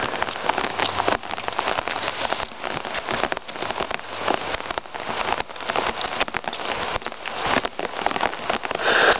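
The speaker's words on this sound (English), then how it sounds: "raindrop on the camera." Steady rain patters close on a handheld camera, a dense, continuous crackle of drops with occasional sharper taps, loud and unbroken with no voices.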